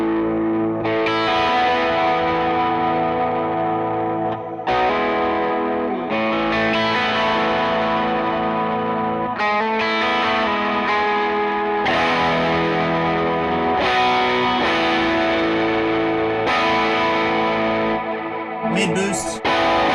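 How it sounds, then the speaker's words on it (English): An electric guitar played through a TONEX Oxford amp capture with delay and reverb rings out in loud sustained chords and phrases, with echoing tails washing between strums. "let's throw some delay and reverb on"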